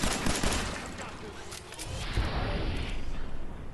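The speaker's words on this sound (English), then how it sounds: "Please stop shooting me" Gunfire in the game Fallout 4, a dense crackling fusillade of mixed shots, moderately loud and continuous, with some lower thumps in the middle and a voice faintly present.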